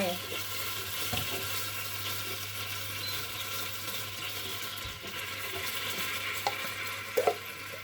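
Coconut milk heats in a pot on the stove and is stirred, a soft steady sizzle with scraping, faint and continuous throughout, with a couple of louder knocks near the end.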